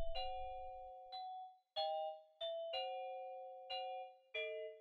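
A pitched-down bell sample in an FL Studio beat, treated with vintage reverb and EQ, strikes about seven ringing notes in a loose rhythm. Each note decays smoothly, and the bell plays alone and clearly.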